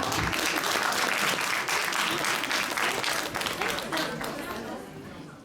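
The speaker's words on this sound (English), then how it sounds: "Give a round of applause, everyone" Audience applause after a patriotic dance by second-year BA girls at a college cultural programme, steady crowd clapping with some chatter, moderately loud and tapering slightly at the end.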